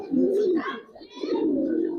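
A female Giribaz pigeon coos close by in a loft, two low rolling coos separated by a short dip, with other birds faintly chirping behind.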